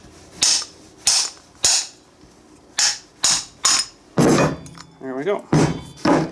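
Metal socket hammered against an old bearing race from a weed wacker, six sharp impacts in an uneven rhythm, close and loud, followed by a short voice and a few scraping clatters.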